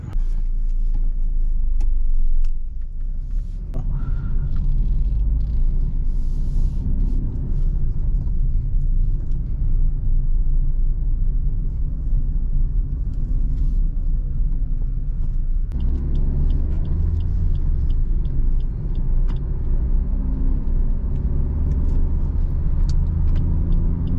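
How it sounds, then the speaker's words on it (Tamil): 2025 Maruti Ertiga CNG seven-seater heard from inside while driving, a continuous low engine and road rumble with faint clicks and rattles, shifting in tone partway through, no voices. "இந்த வண்டியோட டிரைவ் தான் நீங்கள் இன்னைக்கு பார்க்க போகிறீங்க."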